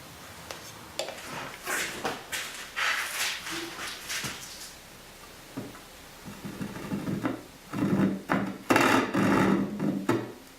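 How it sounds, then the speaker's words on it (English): A handsaw rips along a piece of wood stock for a dovetail keepsake box, with close, uneven rasping strokes, a brief lull midway, then a quicker run of louder strokes; no one speaks. "Here I'm using a handsaw."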